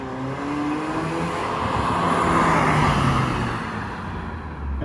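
A Vauxhall Astra estate with a 2.0 16v turbo engine revs loudly, its exhaust roaring with a steady rising and falling drone that fills the whole stretch without a break.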